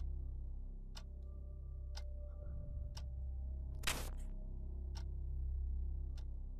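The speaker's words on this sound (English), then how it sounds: "Do you hear the clock?" Clock in a Backrooms horror video game ticking once per second with sharp, evenly spaced clicks over a low droning hum, broken by one brief louder burst of noise.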